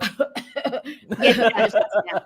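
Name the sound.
cough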